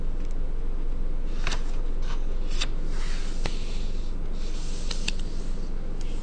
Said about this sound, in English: I'm going to fold corner to corner.